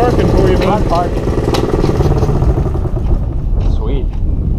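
Road-legal mini bike engine over-revving during a ride, a loud, busy mid-pitched engine roar with wind noise over it, and people talking beneath it.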